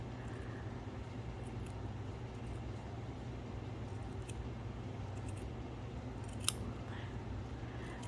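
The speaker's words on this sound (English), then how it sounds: "You're just gonna start by cutting the head off of whichever stuffed animal you have." Scissors snip through a stuffed animal's neck to remove the head, a steady low crunching of fabric and stuffing with one sharp click near the end, fairly quiet and close.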